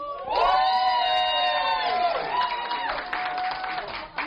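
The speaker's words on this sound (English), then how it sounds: "By round of applause, please." A live podcast audience at a producers' show cheers loudly, with high sustained whoops and shouting voices over scattered clapping. The sound is close and continuous, tapering off toward the end.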